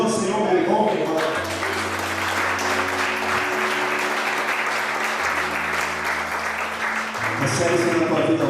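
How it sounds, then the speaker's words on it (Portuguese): Church congregation applauding together during a worship service, a steady dense clapping wash lasting throughout with sustained organ or keyboard tones underneath. "E recebe aplaudindo ao Senhor, meu irmão, minha irmã"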